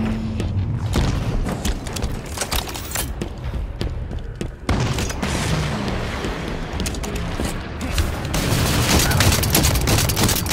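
Dense, continuous gunfire and booming explosions fill a Halo battle around an enemy core, loud and close with overlapping bursts and thuds throughout.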